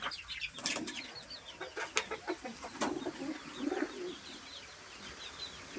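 A male teddy pigeon coos in short repeated phrases, close by, with brief wing flaps and other birds calling faintly in the background.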